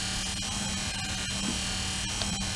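A 2010 Toyota Venza wiper motor drives its linkage with a continuous electric whirring hum, broken by faint rhythmic ticks as the mechanism cycles.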